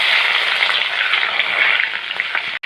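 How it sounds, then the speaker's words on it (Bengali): Onion and garlic fry loudly in a pan with whole cumin and five-spice for a tempering, making a dense, steady close sizzle that cuts off abruptly at the end. "আমি এখন পেঁয়াজ রসুনগুলি সব কিছু একসাথে বাগারের জন্য হালকা ব্রাউন কালার করে ভেজে নেব।"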